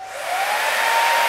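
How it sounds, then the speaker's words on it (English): A hair dryer blows steadily and loudly up close, a constant whooshing roar with a faint whining tone. "Sitting straight, get my hair dryer."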